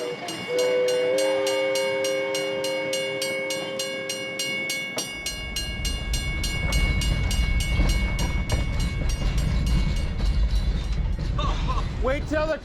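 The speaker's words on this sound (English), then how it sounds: "Oh, wait till the train stops." Sumpter Valley Railroad steam train in Oregon on a Christmas ride: a loud whistle sounds in sustained tones at first, then a heavy rumbling run with clatter takes over, while people sing Jingle Bells and talk nearby.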